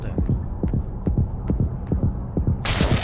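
Fast, steady heartbeat thumps from the Yomawari horror game pulse low and muffled in a regular double rhythm, ending in a sudden burst of hissing noise.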